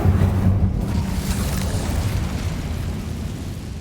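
Incendio fire spell cast in Hogwarts Legacy, a loud rumbling whoosh of flame that swells at the start and slowly fades into a roaring wash, no talk.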